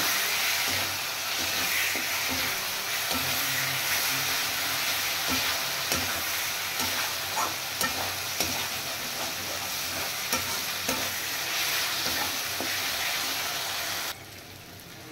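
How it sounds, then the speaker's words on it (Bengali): A spice paste of coriander and cumin powder is fried and stirred in a pan for an echor paneer curry, a steady loud sizzle and hiss with scraping stir strokes throughout, dropping away suddenly near the end. "এবার মশলাটা আবার ভালো করে কষিয়ে নেব।"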